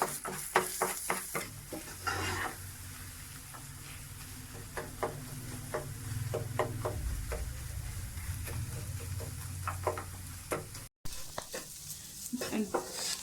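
Egg seasoned with black pepper and salt stirred in a frying pan for a sandwich, with steady sizzling and repeated scraping strokes of a utensil against the pan throughout, close and fairly loud, with no talking.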